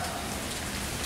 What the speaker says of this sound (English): It's raining, y'all.